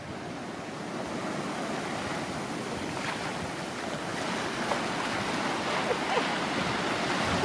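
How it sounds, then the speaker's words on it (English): Steady roar of surf breaking on the beach at Port Fairy, Australia, continuous and fairly loud, with wind rushing across the microphone. "We're down at the beach at Port Fairy at the moment."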